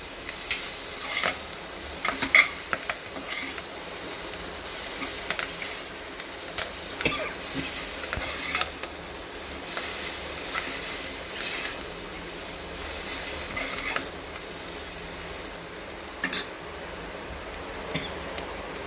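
Dal with soaked chana dal and ponaganti greens being stirred in a pot, a soft continuous bubbling hiss broken by light scrapes and clicks of the spoon, faint and without talk.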